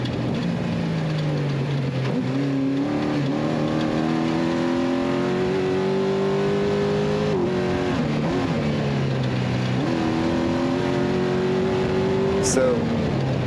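An off-road race car at the Baja 500 desert race drives past, its engine revving and shifting with rising and falling pitch as it approaches and goes by, alongside people talking nearby.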